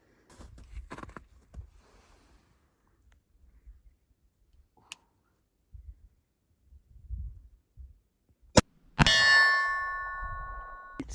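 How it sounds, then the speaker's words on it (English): Lever-action rifle being cycled at an outdoor gun range: a few faint clicks and rustles, then a sharp metallic clack followed by a bright ringing clang that slowly decays. "Sweet sounds of a lever action."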